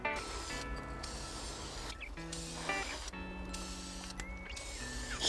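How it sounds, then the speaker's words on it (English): Several short hissing bursts from a clear coat spray can, quick and close, separated by brief pauses while a faint tonal hum runs underneath. "Test the can by giving it 2 or 3 quick bursts"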